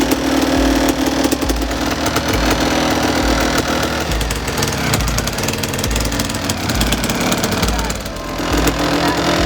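A 1993 Kawasaki KDX200 dirt bike engine runs steadily and loudly close by, its two-stroke buzz holding with slight variations in revs.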